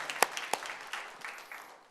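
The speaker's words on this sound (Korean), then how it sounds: "우리 주님께 영광의 박수 올려드립니다." Congregation applauding during a church service: a short, quiet burst of scattered handclaps that thins out and fades, heard alone without speech.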